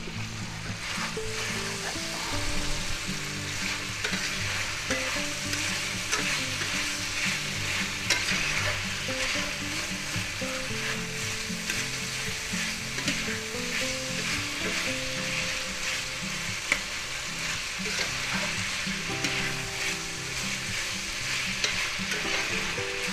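Chicken stir-fries in a hot pan with a steady, loud, close sizzle that runs without a break, mixed with the scrape and rustle of stirring and no talking.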